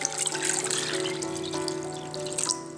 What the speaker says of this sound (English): I'll cover it with water